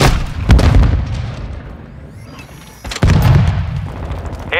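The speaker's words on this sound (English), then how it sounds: "Stun grenade out!" A stun grenade bursts in a first-person shooter game with a loud booming blast, followed by a quieter ringing stretch and then another sharp, heavy detonation near the end.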